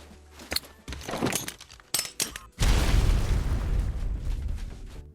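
Grenade blasts in the video game Ark Survival Ascended, a few sharp clicks and impacts followed by a deep, loud booming explosion that rumbles on for several seconds.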